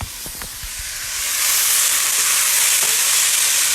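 Sizzling in a hot pan while browning ingredients for marinara sauce, with a few scraping stirs early on, then a steady loud hiss that swells and holds.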